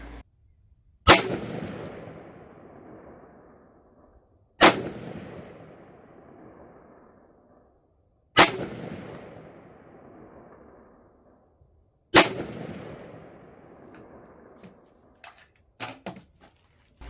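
Four loud, sharp rifle reports fired at a white object downrange, each evenly spaced several seconds apart with a long ringing decay, followed by a few faint clicks near the end.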